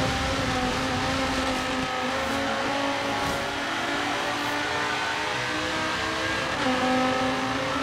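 A race car engine in the video game Forza Horizon 3 holds a loud, steady high-revving whine with slight pitch shifts, and nothing else is heard.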